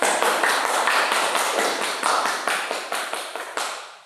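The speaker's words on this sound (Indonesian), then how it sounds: "Berikan tepuk tangan." Dense applause from a classroom of students, a steady wash of many hands clapping with some sharper individual claps, fading away toward the end, no talk over it.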